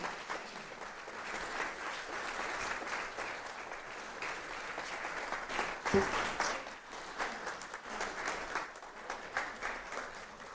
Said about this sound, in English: Nobody gets applause like that, Sophie Thomson